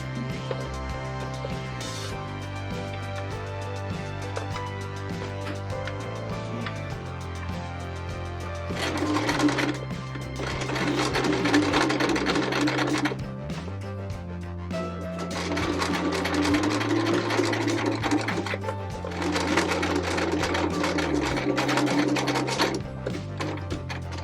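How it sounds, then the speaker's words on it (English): A sewing machine stitches a seam about 1/8 inch from the edge across a fabric cell phone holder pillow, humming steadily in two long close runs after a quieter start. "I'm going to sew about 1/8 inch from the edge all the way across."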